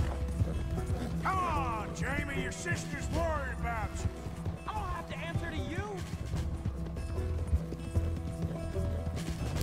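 Rhythmic hoofbeats of a galloping horse in Red Dead Redemption 2, with scattered whinnies and a steady game-style background hum throughout.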